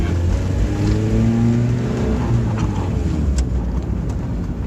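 A Mazda Miata with a new exhaust accelerates, heard from inside the car as a loud, steady engine drone that rises in pitch, with wind noise over the top and no talk.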